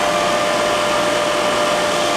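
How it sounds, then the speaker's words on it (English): A belt-driven grinding spindle runs with its motor and 2.5-inch belt, a loud, steady whine and hum with a constant tonal drone that holds without change, no talking. "It's not the spindle itself that's making the noise, it's the motor, the belt, it's the whole combination."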